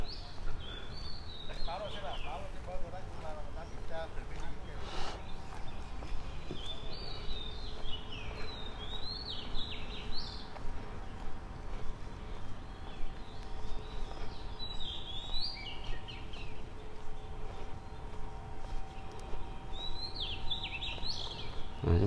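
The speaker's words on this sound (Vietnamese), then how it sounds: "chúng ta nghe có chim hót rồi nghe rất là vui lỗ tai" Birds chirp and sing in a park along a wide pedestrian walkway, short bright calls recurring every few seconds over a steady background hum of the surroundings.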